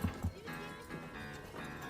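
Horses clip-clop in a western movie scene set in an alley, with a couple of crisp hoof knocks at the start followed by faint, muffled movement under a dramatic film soundtrack.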